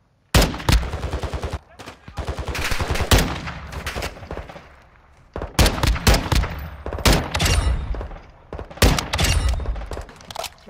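Rapid gunfire in Call of Duty DMZ crackles in loud bursts and sustained automatic strings with short pauses between volleys, close and sharp.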